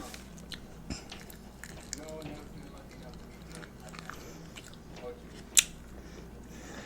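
Close-up chewing of soft corn casserole, with quiet wet bites and a few sharper clicks spread through a muted stretch, one loud tap near the end.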